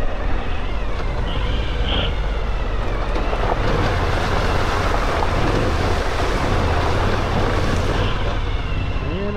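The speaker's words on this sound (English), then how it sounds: "It's another creek crossing." Adventure motorcycles riding through a creek crossing on a mountain road in the Smoky Mountains, with a continuous loud rush of splashing water and engine rumble that fills the whole stretch, close to the microphone.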